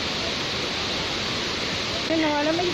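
Steady broadband rush of Thi Lo Su waterfall heard from a wooden footbridge, a continuous loud wash of falling water throughout, with a voice briefly rising over it near the end.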